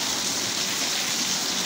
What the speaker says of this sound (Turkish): Yağmurun şiddetinden buralara bile su geliyor.